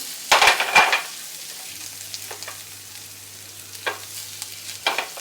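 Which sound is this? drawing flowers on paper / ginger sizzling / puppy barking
ginger sizzling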